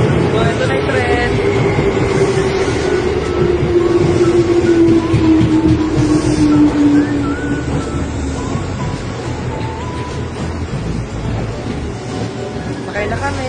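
A Tokyo subway train rumbles steadily through Ginza Station, a loud continuous roar with a falling whine that fades toward the end, while people chat nearby.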